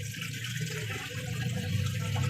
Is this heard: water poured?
yes